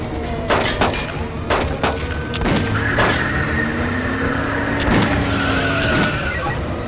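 Several sharp gunshots crack out in irregular bursts over a revving car engine and screeching tires, loud and close.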